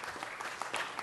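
Audience applause at a city council meeting, a faint, brief patch of scattered clapping from the room, heard at a distance with no talking over it.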